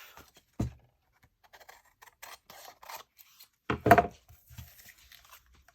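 Scissors cutting paper for a junk journal, with a few close, sharp snips spaced apart and a louder crisp cut near the end, surrounded by soft paper rustles in a quiet room.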